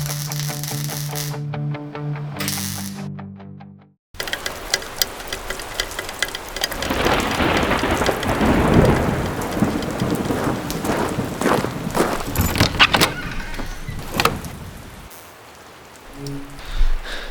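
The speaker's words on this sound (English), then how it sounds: "It's a rainy day" Heavy rain falls outside a car restoration shop, where work is underway on a GM A-body Skylark, with a loud steady downpour and low rolling rumbles of thunder, all following a brief snatch of music at the start.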